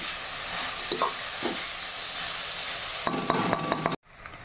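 Cabbage and chana dal vegetables frying with tomato in a pan, a steady close sizzle and hiss with a few brief stirring clatters near the end before the sound cuts off, no voices.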